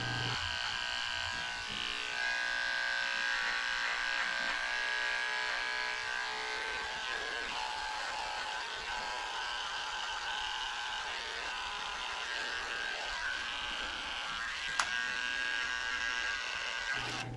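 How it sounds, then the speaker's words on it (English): Electric clipper fitted with a 30 blade shaving the face of a Shih Tzu, a steady close buzzing hum that runs on without pause and holds an even level throughout, with no talking. "then I'm coming back with the clipper blade and shaving it out"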